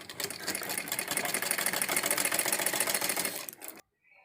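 A sewing machine stitches pleats into a Patiala salwar, running in a close, steady rapid clatter for several seconds before stopping abruptly, with no voice over it.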